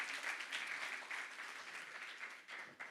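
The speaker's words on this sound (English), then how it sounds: "let's give a round of applause to our lovely ladies today" Audience clapping for a women's real estate panel at a museum evening event, a sustained crowd applause heard at a distance throughout, fairly soft and even, with a few sharper claps near the end.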